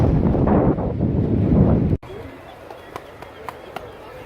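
Strong wind buffeting the microphone on a sandy beach at Perranporth: a loud roaring rush for about two seconds, then cut to a quieter stretch with faint taps and a brief voice.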